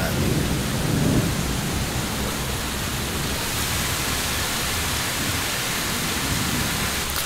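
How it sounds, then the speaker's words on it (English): Heavy rain pours steadily in a dense roar during a Florida storm with lightning, with low rumbling thunder blended into the wash; no clear voices. "Flashes of lightning, thunder."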